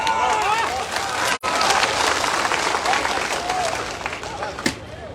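Audience applause at a political party gathering held on an open ground in Supaul, dense and steady for several seconds with a brief break, crowd voices mixed in.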